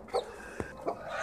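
A hen gives a few short soft clucks, two or three brief calls spaced apart against quiet farmyard background, fairly faint and close.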